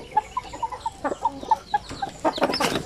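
A hen clucks in repeated short calls with chicks peeping around her, a brood of newly hatched pure Basilan chicks in a nest; the calls are close and fairly steady, growing busier and louder toward the end.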